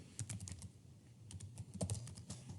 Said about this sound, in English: I'm going to type in the decision